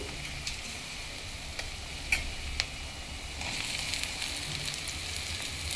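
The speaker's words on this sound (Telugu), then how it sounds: "ఇప్పుడు ముందుగా కట్ చేసి ఉంచుకున్న బంగాళదుంప వేస్తున్నాను." Potatoes cut into thin, medium-sized pieces are added to a pan of lightly browned coconut with ginger garlic paste, frying in a steady soft sizzle with a few sharp ticks and stirring clinks, growing a little louder toward the end.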